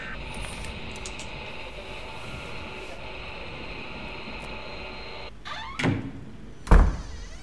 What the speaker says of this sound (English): I hear the door.